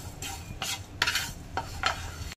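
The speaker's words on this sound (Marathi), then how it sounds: "धणे, जिरं आणि बडीशेप मध्ये मी थोडासा ओवा पण टाकलाय, तो पण छान भाजून येऊ दे" Coriander, cumin, fennel and ajwain seeds dry-roasting in a pan, quiet rhythmic scraping strokes of a spatula stirring the dry seeds at close range, with a faint rustle between strokes and no talking.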